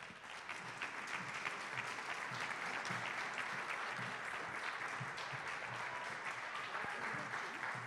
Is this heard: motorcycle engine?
no